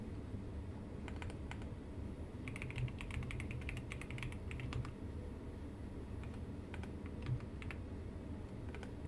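Keys clatter on a computer keyboard in a desk setting, a dense run of quick clicks in the middle followed by sparser taps, close-up over a low constant room hum.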